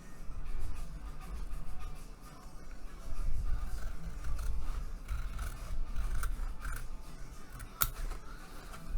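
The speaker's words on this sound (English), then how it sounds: "Let's just cut all of this out right here." Scissors snip and rasp through paper while a gift bag is cut out, a steady run of close, crisp cuts and rustles with a sharp click near the end.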